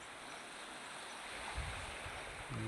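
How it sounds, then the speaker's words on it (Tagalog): Sea waves wash and break against a rocky shore in a steady broadband roar, with a couple of heavier surges toward the end. "Ito yung tabing dagat kanina sa baba natin"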